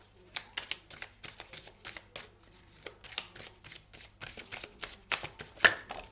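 Tarot cards are drawn and laid out one after another, producing close, quick papery flicks and slaps in an uneven rhythm, some grouped in rapid bursts.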